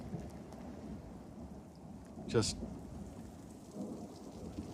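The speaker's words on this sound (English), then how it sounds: "they had a bunch of rain and a bunch of hail" A storm of rain and hail pours down steadily, and a sharp crack of thunder cuts through near the middle; a voice speaks briefly.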